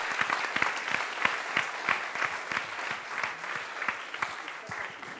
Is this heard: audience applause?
yes